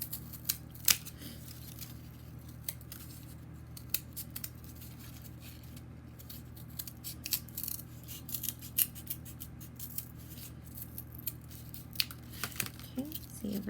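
Scissors snipping through cardboard to cut out a teardrop shape, a string of close, crisp irregular cuts and rustles over a faint low hum, with some quiet talk in the background.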